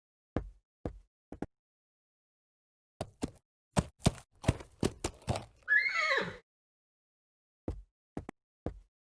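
A horse whinnies in the adventure game Willy Morgan and the Curse of Bone Town, one clear neigh standing out among scattered hoof knocks and game clicks, with short silent gaps between them.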